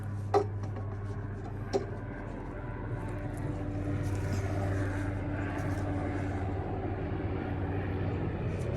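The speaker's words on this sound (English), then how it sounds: "Hear that chopper?" A steady low helicopter drone hangs in the background throughout, passing overhead at a distance above a scrap yard, with a couple of sharp knocks near the start.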